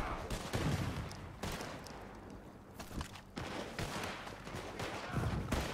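Rapid bursts of gunfire in the Red Dead Online video game during a Call to Arms mission, with dense overlapping shots and booms filling the whole stretch, loud and close.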